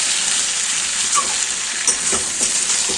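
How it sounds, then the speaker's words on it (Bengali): Mutton sizzles steadily in a pan while being stirred, a continuous close frying hiss broken by soft scraping strokes. "মাটনটা দেখো খুব ভালোভাবে কিন্তু একদম কষানো হয়ে গেছে।"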